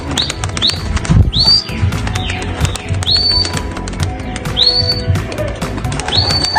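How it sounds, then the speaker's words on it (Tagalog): A racing pigeon returning to its home loft at the end of a derby race in Legazpi, Albay, with repeated short rising chirps and bird calls over a busy outdoor background and occasional low thumps. "So, nandito na yung ibon natin mga kalapatids."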